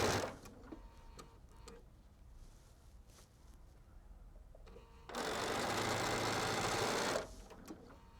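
A sewing machine chain pieces quilt four-patches, stitching loudly and steadily for about two seconds after some quiet handling and clicks.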